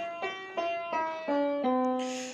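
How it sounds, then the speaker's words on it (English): Five-finger pentascale played on an untuned piano: six clear single notes struck one after another, each ringing briefly, moderately loud and close, with no talk. "The pentascales are simply the 5-finger scales on the piano."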